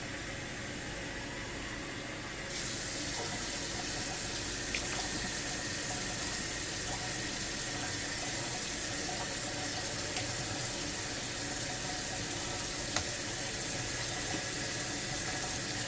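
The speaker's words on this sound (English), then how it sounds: "So I'm going to add some water." Steady hiss of tap water running and filling a pot, constant and fairly quiet, starting more fully after a couple of seconds and continuing without a break.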